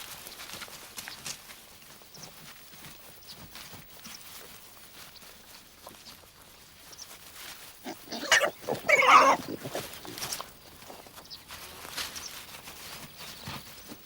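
Wild boars in a European woodland rustle and shuffle while foraging, with soft footsteps and brief low grunts. A louder burst of movement comes midway through a steady, low background.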